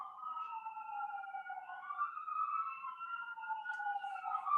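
Ambulance sirens pass by outdoors, a continuous wailing tone sweeping up and down steadily at moderate distance, with no talking over it.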